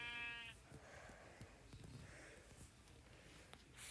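A sheep bleats once near a stream and fallen tree in a ravine where a cow also stands, a short wavering cry at the start, followed by quiet outdoor rustling and faint breathing.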